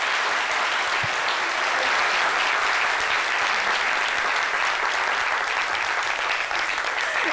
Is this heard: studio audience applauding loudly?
yes